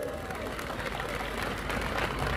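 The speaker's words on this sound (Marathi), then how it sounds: "जोरदार टाळ्या झाला" A crowd at a political speech claps loudly and steadily, with scattered cheers mixed into the dense roar of applause throughout.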